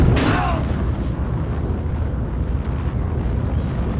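Guided missile strikes in the video game Civilization V, a sharp loud impact opening into a rolling boom that trails off into a sustained rumble.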